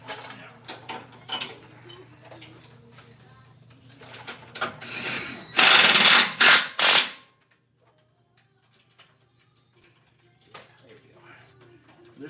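A ratchet is used on vehicle bolts while fitting 40-inch tyres on a Ford Excursion. It gives sparse clicks and knocks, then a loud burst of rapid ratcheting for about two seconds, with a low steady hum beneath.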